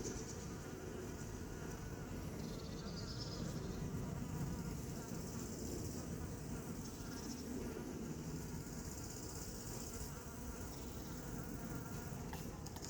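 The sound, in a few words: bees buzzing around hive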